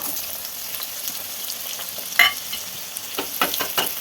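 Finely chopped onion goes into hot oil tempered with cumin, urad dal and mustard seeds, giving a steady sizzle with a sharp burst as it hits the pan and then the scrape of stirring.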